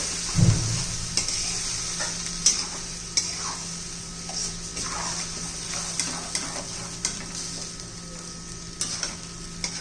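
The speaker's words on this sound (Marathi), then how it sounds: "आणि तेलामध्ये परतून घेऊ." Eggplant masala sautés in oil in a pan with a soft, continuous sizzle, punctuated by regular light scrapes and clicks of a spoon stirring against the metal.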